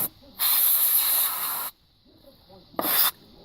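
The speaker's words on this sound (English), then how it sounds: "I took some can of air, and they sell this in all kinds of brands and whatnot, and I just sprayed the inside of the connections" A can of compressed air sprays into an electrical connector on a 2005 Toyota Prius during an interior repair. Two sharp hissing bursts come close up: a long one of over a second, then a short pause and a brief second blast.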